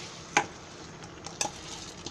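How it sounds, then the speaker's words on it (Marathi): Rice being stirred through potato masala in a pot, with two sharp scraping clinks of the spoon against the metal standing out over a faint background hiss. "तांदूळ टाकले की भात असं चांगला हलवून घ्यायचा मस्त."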